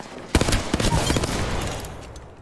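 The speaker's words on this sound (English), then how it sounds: "The enemies are shooting at me." Gunfire in the video game Apex Legends, a sharp burst of rapid shots with crackling echoes that then fades into a decaying rumble.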